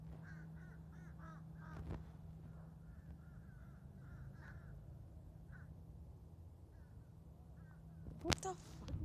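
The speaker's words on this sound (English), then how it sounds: "Look at all the fucking birds." Crows caw repeatedly at a distance, many birds calling in scattered groups over a steady low hum, with a sharp knock near the end.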